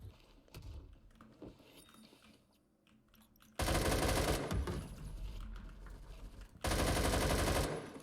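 Automatic gunfire from Roblox Phantom Forces comes in two long, dense, loud bursts after quieter game clicks and movement, with no talk over it.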